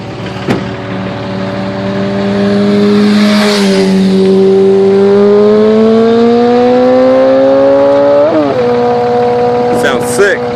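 A 2003 Dodge Cummins diesel truck with a straight-pipe exhaust revs up and settles again in a loud, close, steady rumble. The engine pitch climbs gradually and then drops back.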